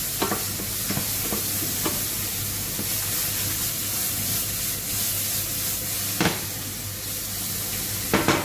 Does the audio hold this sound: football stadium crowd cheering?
no